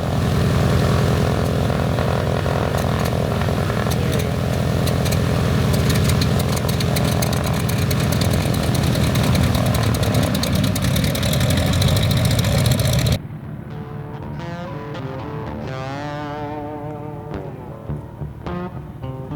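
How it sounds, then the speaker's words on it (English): Twin seven-cylinder radial engines of a Cessna T-50 Bamboo Bomber, roughly 245 horsepower each, drone in a loud, steady propeller roar that cuts off abruptly after about thirteen seconds, leaving a quieter wavering engine tone. "Each of these 7-cylinder radials puts out around 245 horsepower, and together they give the T-50 its steady, reliable pull"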